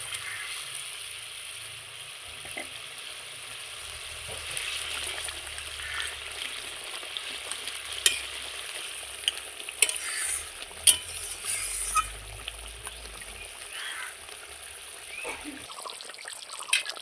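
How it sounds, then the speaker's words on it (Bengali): Fried koi fish going into simmering gravy for Bengali tel koi, a soft bubbling sizzle and gentle stirring with light clinks, moderately close and fairly quiet throughout. "এবার ভেজে রাখা কই মাছগুলো দিয়ে দিচ্ছি।"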